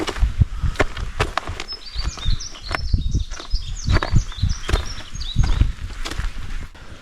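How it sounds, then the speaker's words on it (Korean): Birds chirp and warble in short bright phrases in the background while close footsteps and scuffing crunch along steadily. "그래도 새들이 엄청 예쁘게 울어요 듣기 좋아요"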